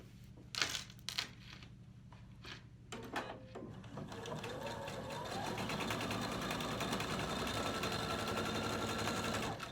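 A sewing machine stitches quilt pieces for a Dresden Plate quilt, running in a steady continuous whir after a few short start-and-stop bursts, close and fairly quiet.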